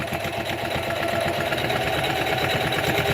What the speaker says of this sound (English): I'm just going to sew the bottom together